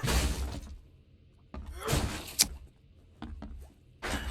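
Attempts to open a locked, boarded-up door in The Sinking City video game: a few separate rattling, knocking bursts with short quiet gaps, fairly close and moderately loud.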